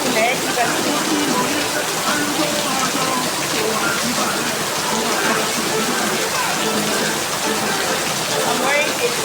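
Rain falls as a dense, even hiss across the whole stretch, loud and steady, with no talking over it.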